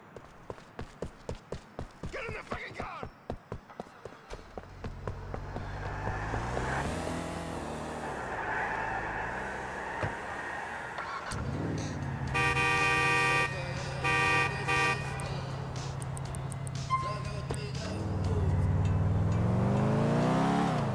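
Car driving in Grand Theft Auto IV on PC, engine drone rising and revving steadily with horn-like tones midway, loud and continuous with no talk.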